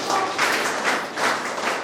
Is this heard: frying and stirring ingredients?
no